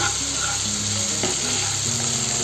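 Ginger paste frying with onions in a pan for a Bengali potato and prawn curry, a dense, continuous close sizzle with a single clink of a utensil.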